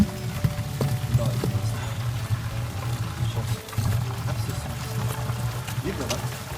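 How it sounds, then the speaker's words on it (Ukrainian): Water pours steadily from a tap at the Sarzhin Yar spring in Kharkiv, a continuous nearby flow while people talk over it throughout. "Я не знаю, откуда тут берется давление, чтобы вода поступала через кран"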